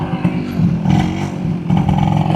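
A 125 cc motorcycle engine being revved for wheelie riding, with a steady loud drone and throttle surges, loud and close throughout with no talk.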